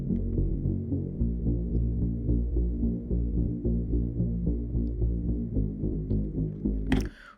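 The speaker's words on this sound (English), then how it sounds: "So just over here I have this bass sample, sounds like this." A bass sample plays back in FL Studio, a deep, throbbing low-end loop with steady pulsing notes for about seven seconds before cutting off abruptly, with no talking over it.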